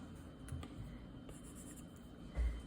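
A stylus writes on a tablet screen in Procreate, making soft, continuous scratchy strokes at close range with a few light taps, steady and quiet.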